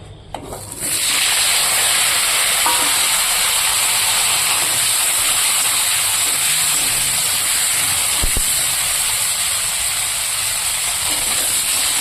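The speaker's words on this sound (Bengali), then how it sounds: "এবার আমি এখানে ফুলকপিগুলো ভেজে নেবো" Cauliflower florets frying in hot oil, a steady, loud, close hiss that holds unbroken almost from the start, with no voices.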